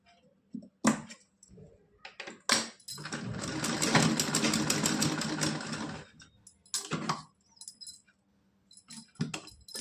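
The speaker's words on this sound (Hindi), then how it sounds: "यहाँ पे हम डबल सिलाई लगा देंगे" A sewing machine double-stitches a Laddu Gopal dhoti kurta in one sustained run of about three seconds, framed by scattered clicks and handling noises in a quiet room.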